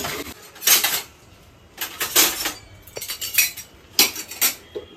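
Metal utensils scrape and clink against a pan while egg fried rice cooks, close and bright, coming in four quick bursts of rattling strokes separated by short quiet gaps.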